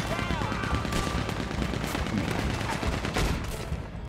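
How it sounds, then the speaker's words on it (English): A Gatling gun fires in Red Dead Redemption 2 during a bank heist, a dense, continuous loud burst of rapid gunfire mixed with other shots, with voices talking underneath. "Oh, they got a Gatling gun."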